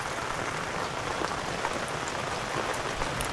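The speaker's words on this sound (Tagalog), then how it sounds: "Raining." Steady rain falls at a mountain campsite on Mt. Acato in Tublay, Benguet, a dense close patter of drops drumming on surfaces throughout, with no voices.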